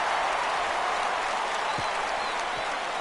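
Stadium crowd cheering in the MLB The Show 17 baseball video game at Minute Maid Park, a steady dense roar of applause and cheers holding loud throughout without a break.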